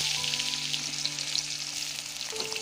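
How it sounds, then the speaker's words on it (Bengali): Nigella seeds and spices frying in white cooking oil in a pan for a Bengali fish curry, a steady close sizzle with no talk. "ভাজাটা একটু লাল লাল করে ভেজে নেব।"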